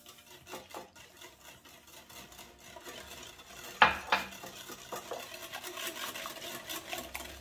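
A whisk beats eggs and sugar in a bowl for crêpe batter, making a soft, continuous scraping and clinking with one sharper knock of metal on the rim partway through. The sound is quiet and close, and nobody speaks.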